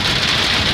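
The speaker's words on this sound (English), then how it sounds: "that rain coming back" Steady rain pours down outdoors, a dense hiss of drops striking surfaces throughout the short moment, loud and close with no talking.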